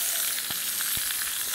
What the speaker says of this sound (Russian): Папа жарит стейки, антрикоты.